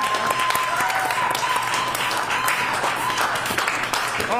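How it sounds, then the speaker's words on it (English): Audience applause for a performer named Ryan at a Stomp show at the Broadway Playhouse in Chicago, a steady wash of clapping at moderate level that holds for several seconds with a faint tone running underneath. "Yeah, give him a round of applause."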